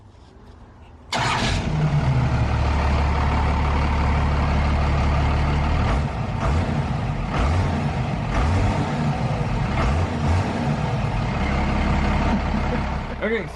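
An extended-cab Studebaker Transtar truck swapped with a 5.9 Cummins diesel engine rumbles to life and runs with a loud, steady low drone close by, its engine note shifting slightly as it pulls away.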